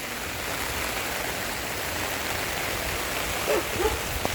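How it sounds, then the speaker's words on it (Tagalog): Steady rain falls outdoors, a dense broadband hiss that holds throughout, with a few faint voices and small knocks near the end. "Lumalakas yung ulan ah."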